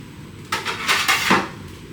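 Metal bakeware clatters as a loaf pan is set down onto a sheet pan: a quick cluster of three or four close, bright clanks and scrapes lasting about a second, then quiet.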